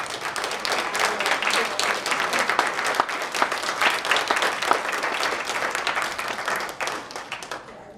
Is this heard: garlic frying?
no